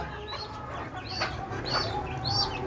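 Native chickens and chicks cluck softly and repeatedly over a steady background hum, with a few higher bird-like calls scattered throughout.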